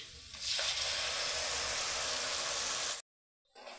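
Tomato paste sizzling in hot oil and frying masala for a potol korma, a loud, steady crackling hiss that runs nearly three seconds, then cuts out abruptly before a fainter sizzle returns.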